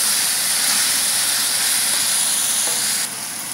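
Tomatoes cooking in a hot pan for chicken curry, a steady close sizzle and hiss that drops abruptly in level near the end, with no talking.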